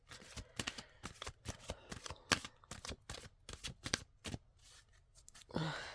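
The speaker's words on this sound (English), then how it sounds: "I do like to shuffle on camera," Tarot cards shuffle by hand in quick, uneven bursts of crisp riffling and slapping, close and clear, with a brief pause and a final rustle near the end.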